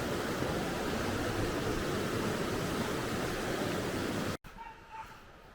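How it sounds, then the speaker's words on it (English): Loud, steady rush of water pouring past close by for about four seconds, then cutting off abruptly to quieter outdoor ambience with faint brief sounds. "Still lovely to hear the rushing water."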